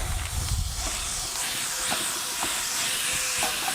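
Ground beef sizzles and hisses steadily as it browns in a hot Dutch oven, a constant crackling fry with a few faint clicks, and no talking.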